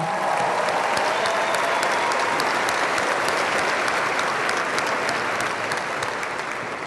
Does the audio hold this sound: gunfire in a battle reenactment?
no